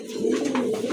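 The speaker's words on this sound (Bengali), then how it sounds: "আরেক জোড়া কবুতর দেখেন" A pair of sky-blue crested racer pigeons coos nearby, a soft, continuous throaty warble lasting about a second.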